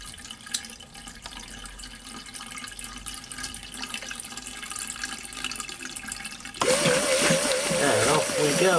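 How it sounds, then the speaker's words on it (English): A piston-type shower sump pump runs with a steady watery hiss, then switches abruptly into louder, rhythmic pulsing as it pumps water out. "as it's a piston type pump, not a centrifugal one, it's why you get this pulsed operation"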